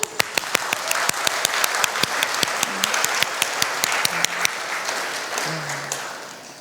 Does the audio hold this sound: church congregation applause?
yes